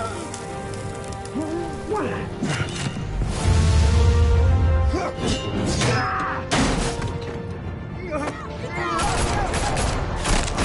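Gunfire in the video game Batman: The Telltale Series, a chaotic burst of rapid shots and crackling impacts mixed with tense music and voices, loud and close.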